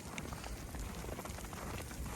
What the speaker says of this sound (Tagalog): Ay, malakas pa yung ulan yung patak.